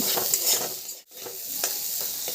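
A spoon scrapes and stirs fried vegetables with cashews and raisins in a pan over a faint sizzle, a few soft strokes with a brief pause midway.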